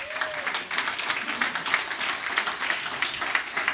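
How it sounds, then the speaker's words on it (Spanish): Church congregation applauding together, a dense, steady wash of clapping that carries on evenly and fairly loud, with no talk over it. "Denle un aplauso a Jesús."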